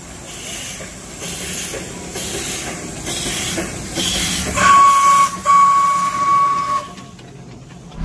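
A steam train whistle at Ghum railway station in Darjeeling sounds as a loud, sustained pure tone for about two seconds, rising out of a hissing, rumbling station background before fading.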